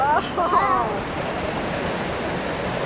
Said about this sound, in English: Look at that white water.